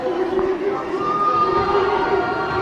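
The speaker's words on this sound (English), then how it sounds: "As the crowd starts to boo, the first shot is good" Basketball crowd in the Northtown bleachers booing a free throw shooter at the Northland Classic, a dense, steady roar of voices filling the gym with a low sustained jeer, close and continuous throughout.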